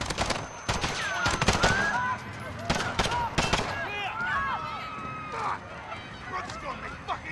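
Gunshots in Call of Duty: Modern Warfare crack in rapid bursts and single shots, loud and close, over a busy street scene with shouting voices and running feet.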